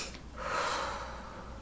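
A person takes a single deep, audible breath in, a brief sharp gasp-like inhale swelling and then slowly trailing off, close and alone with no speech.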